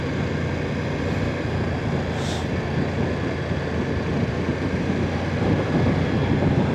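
Steady, loud Yamaha MT-09 SP motorcycle engine drone with rushing wind noise, continuous throughout as if recorded while riding over a dirt-strewn bridge.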